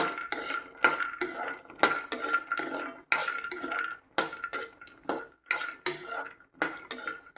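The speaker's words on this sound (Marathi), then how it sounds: "आणि याच तुपामध्ये आपण शंभर ग्रॅम काजू घेतलेत ते पण भाजून घेऊया" A hundred grams of cashews are roasted in a little ghee in a pan for dry fruit laddu, with repeated rhythmic scraping and clinking of a spatula against the metal over a light sizzle, close and clear.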